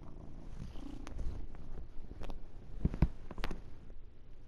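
A heavy house cat purrs close up in a low, rumbling, continuous throb, with a few soft clicks and rustles over it and no talking.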